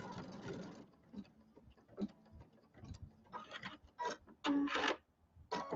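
A sewing machine stitches a mug rug in short, uneven bursts of rapid clatter separated by quiet pauses, fairly close and moderately loud.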